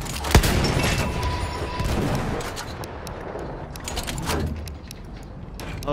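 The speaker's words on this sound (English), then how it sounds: "Feindliches MG!" Enemy machine gun fire in Battlefield, sharp cracking shots and bursts scattered over a busy battlefield din, some near and some more distant.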